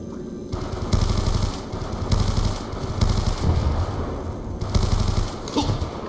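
Rapid automatic gunfire in Call of Duty Black Ops 2 Zombies, loud and sustained, several bursts of machine-gun fire overlapping into a dense volley with no talk over it.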